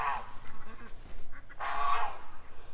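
Ducks calling at feeding time, a run of nasal honking quacks in two bursts, the second louder and longer, close by with no talk.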